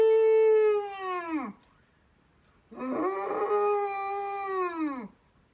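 A person imitates an ox with two long, drawn-out, moaning lows. Each one holds steady and then slides down in pitch at the end. The voice is close, with a pause between the two calls.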